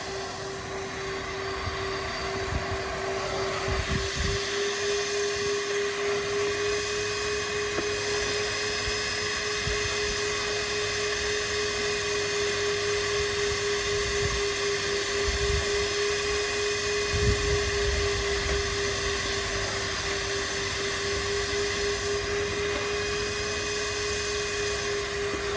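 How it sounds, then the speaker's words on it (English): A wet vac drones steadily and loudly while sucking rinse water off outdoor porcelain tiles, its motor whine unbroken throughout with faint gurgling underneath. "if you have got larger areas, we can wet vac this up"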